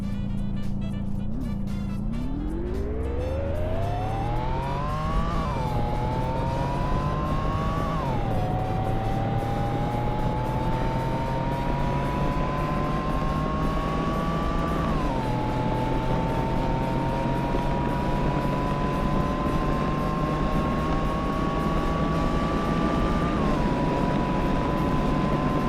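A Roblox car accelerates at full throttle through a 5-speed manual gearbox, its loud synthetic engine note rising steadily with brief dips at each shift, a continuous drone with no talk.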